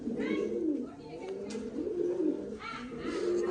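Jacobin pigeons in a running pair, the female with a slightly injured foot, coo in low soft rolling phrases that repeat steadily and close by, with other birds faintly in the background.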